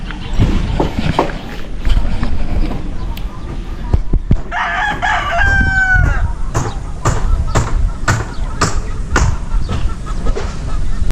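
A rooster crows loudly nearby amid clucking chickens at a house, with scuffling and footsteps in the background.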